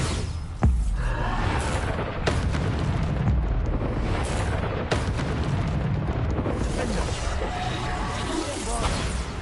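Bombarda explosion spell cast in the video game Hogwarts Legacy, a loud dense rumbling blast with several sharp cracks and booms layered over continuous heavy game noise.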